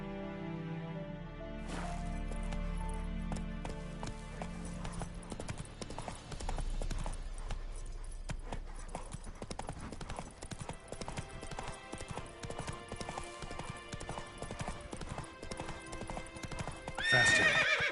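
A horse from The Witcher 3 gallops with steady, loud clip-clop hoofbeats, joined by a whinny, over a continuous game music score that swells near the end.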